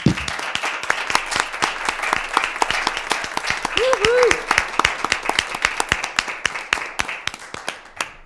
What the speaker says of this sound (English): now we can give all of our exemplary employees a round of applause